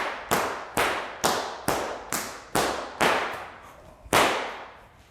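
A bullwhip cracks in a rhythmic volley, eight sharp loud reports spaced about half a second apart, each with a quick decaying tail, close and with no voices.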